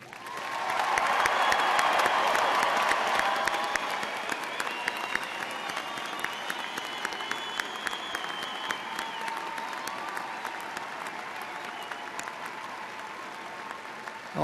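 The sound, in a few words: commencement audience applause for graduates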